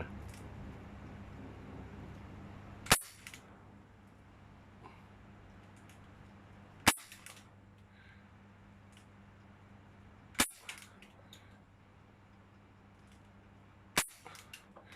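Four sharp, isolated pops from a Ruger MK1 BB gun firing 0.25 g BBs, spaced about four seconds apart and close by over a quiet background hum.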